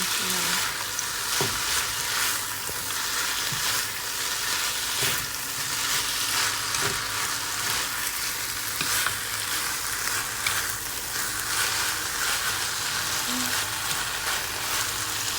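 Water spinach with garlic fries in a pan, giving a loud, continuous sizzle with occasional stirring scrapes and pops throughout.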